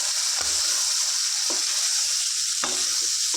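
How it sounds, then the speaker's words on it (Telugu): Chicken liver masala curry with chilli powder and garam masala fries loudly in a pan, a continuous sizzle broken by three distinct stirring scrapes at regular intervals, with no talking. "కారం పొడి మొత్తం పీసులకు కలిపేలా మసాలా మొత్తం ఈ విధంగా కలుపుకోవాలి"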